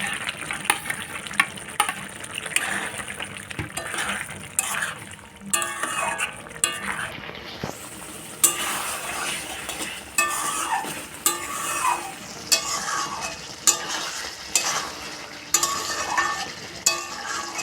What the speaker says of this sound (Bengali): এবার আমি ভেজে রাখা পেঁয়াজ আর ক্যাপসিকামটা দিয়ে দেবো।